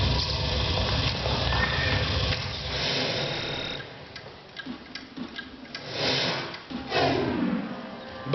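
Horses at a race neigh and whinny amid rhythmic hoof clatter, with a loud galloping, ticking beat and several sharp whinnies rising over a busy, noisy mix.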